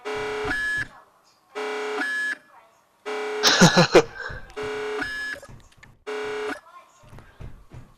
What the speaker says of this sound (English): So we're going to go ahead and play the alarms